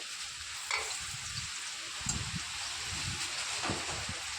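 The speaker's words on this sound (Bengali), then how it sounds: "পটল ভাজছি আমি পটল ভাজছি" Slices of pointed gourd (potol) fry in a pan, giving a steady soft sizzle with occasional stirring clinks, heard close up during stormy weather.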